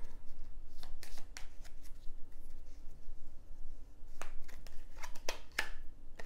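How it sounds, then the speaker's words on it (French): Tarot cards being shuffled and handled as a card is added, giving close, crisp papery riffles and soft slaps in quick irregular bursts, with no talking. "Je vais rajouter une carte."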